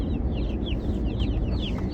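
Baby chicks cheep in a car on the way home, a busy flock of high chirps repeating quickly over a steady low road rumble.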